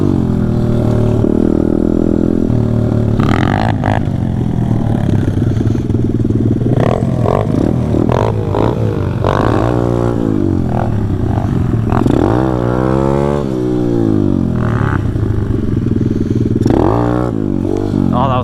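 Pit bike engine revving hard and dropping back repeatedly during a dirt ride with wall rides, loud and close throughout, with some clatter and scraping mixed in.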